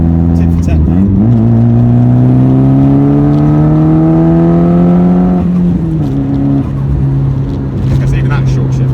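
Nissan Pulsar GTiR engine revving up through the gears with a short shift, loud steady engine drone climbing in pitch, then a shift and settling lower inside the car.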